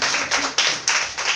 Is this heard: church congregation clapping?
yes